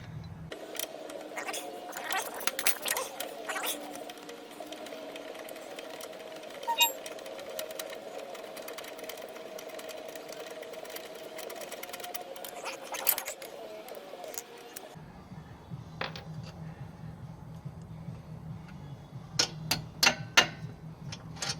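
Metal clicks, ratchet ticks and rattling as a bolt is worked loose on the suspension of a 2015 Subaru Forester during a CV axle replacement, with a steady drone through the first part and sharper taps near the end.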